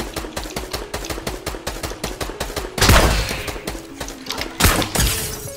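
Rapid gunfire in the video game Fortnite, a fast regular burst of shots followed by a couple of heavier blasts, loud and close.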